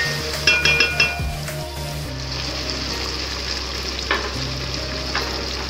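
Spices fry in a pan for Hyderabadi stuffed achari okra, with a steady close sizzle and several metallic clinks of a spoon against the pan.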